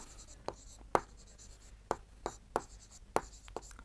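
Chalk or marker strokes tapping and scraping on a board during a Hindi-medium Class 7 maths lesson on fractions and percentages, several sharp distinct strikes at an uneven rhythm, close and fairly clear with no voices.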